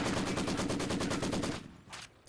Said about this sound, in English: Maxim trying to shoot at long range against this squad in the garrison